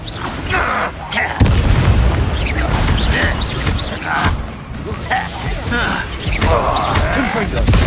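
A Bombarda spell blasts in Hogwarts Legacy amid a magical duel, loud booming impacts and crackling bursts repeating over several seconds, mixed with voices calling out during the fight.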